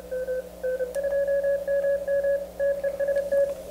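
Morse code sidetone from an LNR Precision MTR-5B radio: clear, loud steady beeps of a single pitch in a rhythmic pattern of dots and dashes over a faint low hum.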